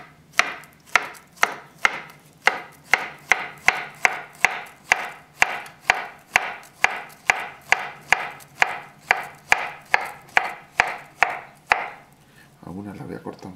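A knife cutting a banana into small pieces on a board, about twenty-five crisp, evenly spaced chops in a fast steady rhythm, close and clear, ending with a short soft scrape.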